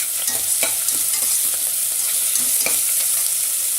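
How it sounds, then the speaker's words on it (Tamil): Onions sautéing in a pan for proso millet khichdi, a steady broad sizzle with intermittent scraping and stirring clicks from a spoon, close and fairly loud, with no voices. "வெங்காயம் வதங்கிட்டு இருக்கும்போது"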